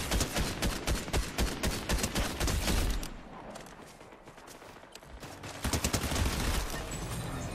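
Rapid bursts of automatic gunfire in Fortnite, dense and loud, pausing briefly midway before another volley erupts and continues to the end.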